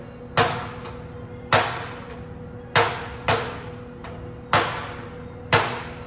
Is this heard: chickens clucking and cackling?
no